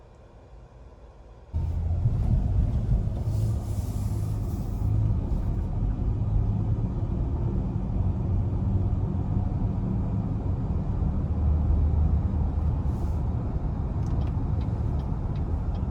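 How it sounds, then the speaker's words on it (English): A 2021 Cadillac XT6 Premium Luxury with a 9-speed automatic out on a test drive, giving a steady, loud road rumble and engine drone inside the cabin after a brief quieter start, with no talking. "next we're gonna go ahead and take the XT6 out on the road for a test drive."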